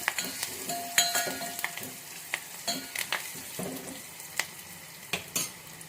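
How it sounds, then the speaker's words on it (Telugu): Curry leaves and turmeric splutter in hot oil while making raw mango dal, with sharp crackling pops scattered over a steady sizzle and a few utensil scrapes from stirring, close and fairly loud. "కరివేపాకు కూడా మంచిగా చిట్పట్ అన్నది కదా"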